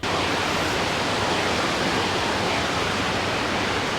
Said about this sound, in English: You can hear the sea, the waves